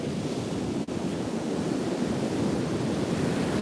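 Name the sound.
ocean waves on the beach with wind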